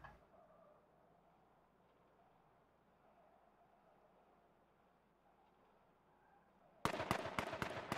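Sharp rapid gunshots in a competitive video game match burst out loudly near the end in a quick volley after a quiet stretch of low ambient game noise.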